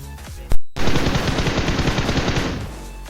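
AKM and M416 rifles firing in a shooter game: a sharp shot, a brief gap, then a sustained loud automatic burst of rapid rattling rounds lasting about two seconds, close and dominant.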